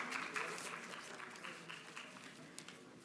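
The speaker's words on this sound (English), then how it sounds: "If we can, with a round of applause." Faint, steady applause from a business forum audience welcoming speakers to the stage, a soft patter of many hands that holds evenly for a few seconds without any voice over it.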